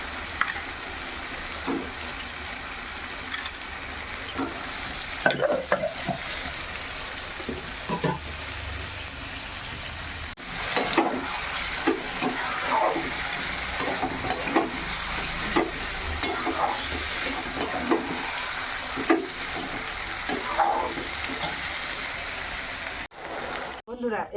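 Meat frying in a hot pan sizzles steadily, with intermittent stirring and scraping and a voice talking over parts of it, cutting off sharply near the end.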